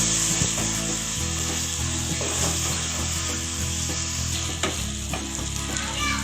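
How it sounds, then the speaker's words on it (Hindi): Goat liver (kaleji) frying and being stirred in a pan with ginger garlic paste, a loud continuous close sizzle with repeated scraping stirs of a spoon, no talking. "अब इसको अदरक लहसुन डाल के भून लूँगी।"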